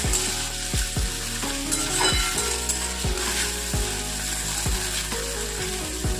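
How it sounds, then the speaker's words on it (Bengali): Vegetables for a flattened-rice khichuri fry with salt in a pan, sizzling constantly under a regular rhythm of spatula scrapes and stirring strokes. "এবার এখানটায় আমি বিভিন্ন লবণটা দিয়ে বেশ ভালো করে নাড়াচাড়া নিই সবজিটাকে ভালো করে"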